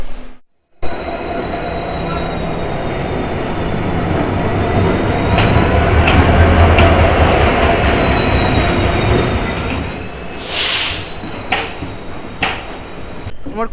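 A train standing at platform four of a busy railway station late at night, with a steady loud rumble of rolling cars, faint wheel squeal and a sharp hiss near the end.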